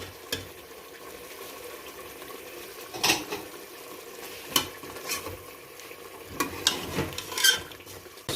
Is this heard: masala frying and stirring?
yes